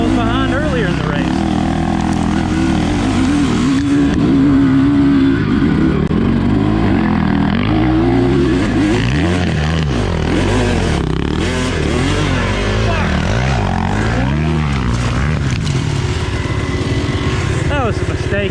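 A Honda off-road race bike's engine drones and revs steadily at an offroad team race in Leon, West Virginia, its pitch rising and falling throughout under continuous loud wind and riding noise.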